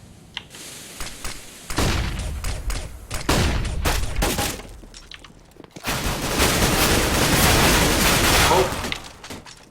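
Counter-Strike gunfire on the de_dust map during a competitive match: rapid rifle bursts and sustained automatic fire with sharp impacts, loud and close, in two heavy clusters.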